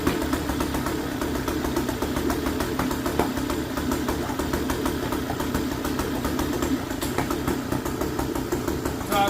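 A small engine runs at a steady idle, a close, constant buzzing putter that holds without a break.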